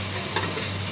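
Sliced bitter gourd (karela) fries in a pan with steady, dense sizzling and a light stir, loud and close, with no talk over it.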